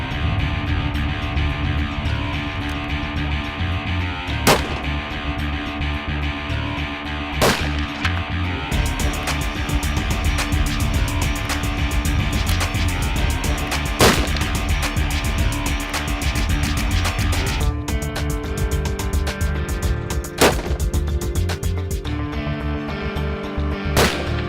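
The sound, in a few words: rifle shots while sighting in at a shooting range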